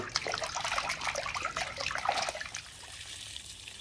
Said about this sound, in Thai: อันดับแรกเรามาล้างหมูให้สะอาดก่อนเอาไปปรุงอาหาร